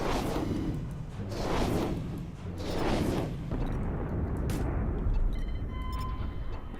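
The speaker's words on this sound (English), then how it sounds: "Torpedo launch." Torpedo launches in the space combat game Infinity Battlescape: three loud, rolling whooshing blasts in steady succession, each swelling and fading, followed by a lower sustained rumble with a faint tone.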